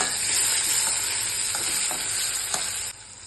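Garlic paste and tomatoes sautéing in a pan, a dense close sizzle with light stirring scrapes that drops slightly quieter near the end, no voices.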